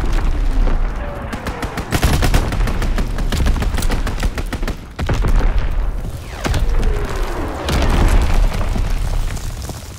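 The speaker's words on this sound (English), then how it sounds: "Strafing run inbound." Strafing run gunfire in Call of Duty WW2, dense rapid bursts of machine-gun fire mixed with booming explosions, loud and continuous for about ten seconds.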